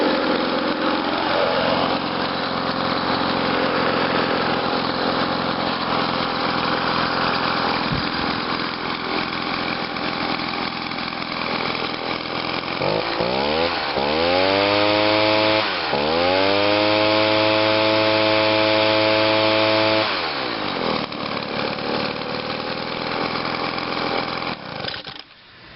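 Echo PB-2100 handheld leaf blower running steadily for a long stretch, a close, loud two-stroke roar with air rush, then a few sharp throttle blips rising and falling before it drops back.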